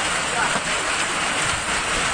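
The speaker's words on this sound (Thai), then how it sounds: "โอ้ในรอบร้อยปีแล้วนะลูกเห็บขนาดนี้" Heavy hail pounds roofs and surfaces at a national park in Khon Kaen, Thailand, a dense, loud, continuous hiss and clatter with no distinct gaps.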